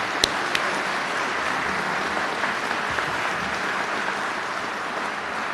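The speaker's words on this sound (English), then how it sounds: "Let's give that group a big round of applause" Sustained applause from an audience at a governor's bill-signing event honoring first responders, steady broadband clapping throughout with no voices over it.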